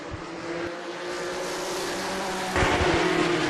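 Race cars in an ISCARS Dash series race roar steadily around the Orange County Speedway oval track, with a continuous engine drone that swells louder near the end as cars pass closer.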